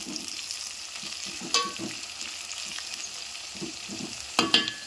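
Potatoes fry in a pan with coriander and curry leaves, a steady close sizzle broken by a few sharp scraping clinks of a spoon stirring, with no talking.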